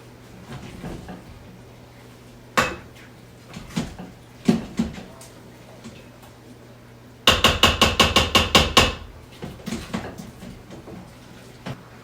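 Peaches and cream oatmeal is stirred in an Instant Pot, with scattered knocks and scrapes of a utensil against the pot and a quick burst of about ten rapid taps partway through.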